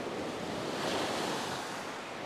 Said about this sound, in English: I'm waiting for these waves to come past